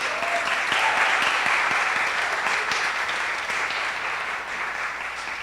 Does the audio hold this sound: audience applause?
yes